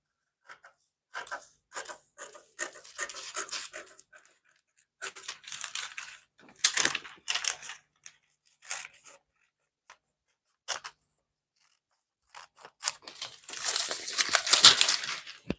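Scissors cut out a paper sewing pattern for a bustier in short, close bursts of crisp snipping and paper crinkling, separated by quiet pauses.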